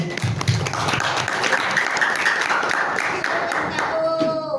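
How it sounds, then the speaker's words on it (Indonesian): Students at a school welcoming new teachers break into loud applause, a sustained burst of many hands clapping with some scattered voices underneath, tapering slightly near the end. "kalian perlu tepuk tangan yang keras buat kalian dan kerja keras kalian selama ini"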